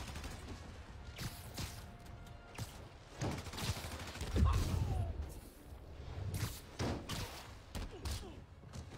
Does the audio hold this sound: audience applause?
no